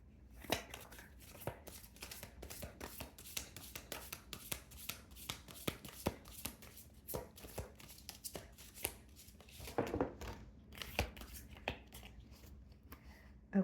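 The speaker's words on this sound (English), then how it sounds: "this deck is a little difficult to shuffle" Tarot cards being shuffled by hand, giving a steady run of soft close riffles and snaps with brief pauses and a few sharper taps throughout.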